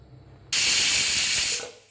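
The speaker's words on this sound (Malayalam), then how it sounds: "ഹൈ ഫ്ലെയിമിൽ 4ാമത്തെ വിസിലാണ്." A pressure cooker on high flame lets out a loud, steady steam whistle that bursts in suddenly, holds for about a second and then fades, with no talking.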